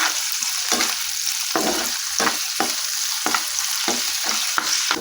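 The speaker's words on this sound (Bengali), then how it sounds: "পেঁয়াজটা তেলের মধ্যে একটু ভেজে নিচ্ছি।" Chopped onion frying in hot oil sizzles steadily, with regular scraping strokes of a spoon stirring the pan about every half second, close by and without talk.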